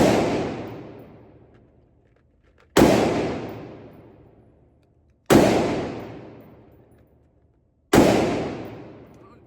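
Four loud, sharp gunshots from an AK rifle fitted with a Texas Trigger forced reset trigger, fired at a range, each crack followed by a long decaying echo, spaced roughly two and a half seconds apart with no talking.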